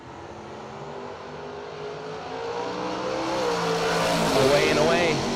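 Two Chevrolet Camaros, a 1978 and a 1969, launch side by side at a drag strip, engines swelling into a loud rising roar that builds over several seconds while an announcer talks over it.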